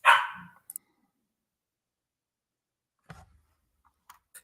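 A dog gives one sharp, fairly close bark, followed after a pause by a few fainter yips and clicks in otherwise quiet surroundings.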